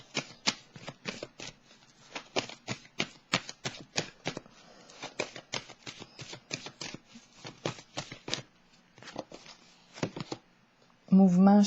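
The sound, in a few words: shuffling and drawing tarot cards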